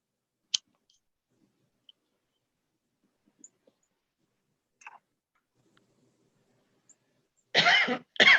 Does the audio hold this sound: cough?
yes